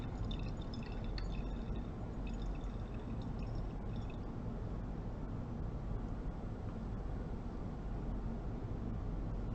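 Aqueous layer draining slowly from a separatory funnel in a chemistry lab, a steady close liquid trickle and drip with broad hiss, continuous and fairly loud throughout, no voices.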